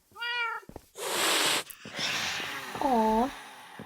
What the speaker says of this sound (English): Where the cats are.